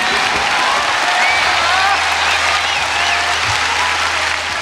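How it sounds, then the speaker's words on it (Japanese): A crowd at a rock concert applauds loudly and continuously, a dense wash of clapping that holds steady from start to finish. "自分ら拍手してるけど"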